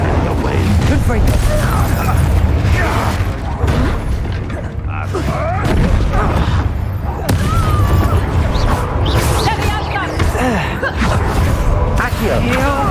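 Confringo explosive spell combat in Hogwarts Legacy, with a busy run of bursts, booms and clattering mechanical effects over several seconds, loud and dense, with voices and grunts mixed in.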